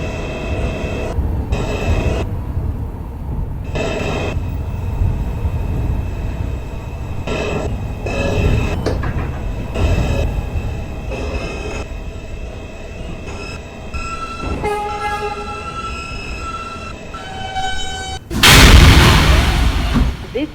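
An R160 subway train rides the J line, rumbling and rattling steadily for the whole stretch, with tonal motor whines and brief bursts of wheel noise, and a loud harsh roar near the end.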